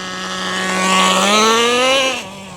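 The nitro engine of a Traxxas Nitro Rustler RC truck screams close by, its pitch climbing steadily as it revs up and then cutting off abruptly at the end.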